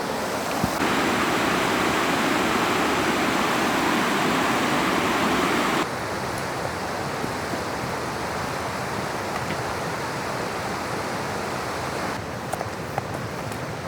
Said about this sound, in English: this one comes out of a big rocky bluff and flows down towards the creek